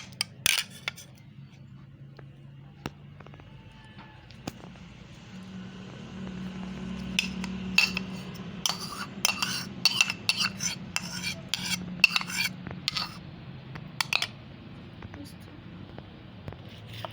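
Fish pieces are stirred with beaten egg in a bowl, giving soft wet clinks and scrapes of a utensil against the dish, sparse at first, then busier, under a low steady hum and quiet talk.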